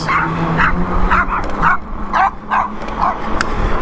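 Several dogs bark and yip in quick, repeated bursts over a steady background hum, fairly loud and close.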